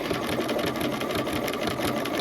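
A sewing machine stitches an appliqué pink flower, running steadily and close up for the whole stretch with an even, continuous mechanical whir and no talking.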